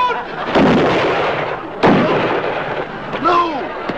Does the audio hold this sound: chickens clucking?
no